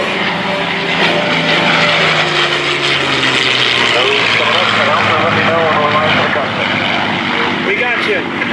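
Korean War era military aircraft passing at a county airshow, a loud engine roar sweeping by with changing pitch, mixed with a public address announcer speaking over it.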